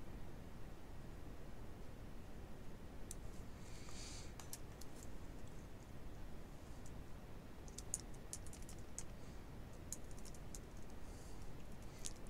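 Scattered computer keyboard key presses, quiet and intermittent, come in small clusters over a steady background hiss during Photoshop editing work.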